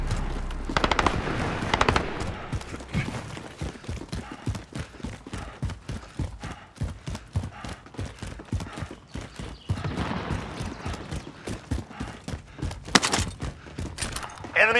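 Rapid automatic gunfire in Call of Duty Warzone, dense bursts of sharp shots with brief pauses, loud and close, mixed with game effects.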